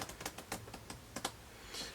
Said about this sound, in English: We're going to give them a really good shuffle right here.